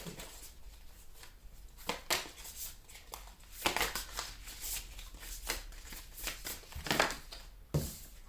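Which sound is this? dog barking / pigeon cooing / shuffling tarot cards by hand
shuffling tarot cards by hand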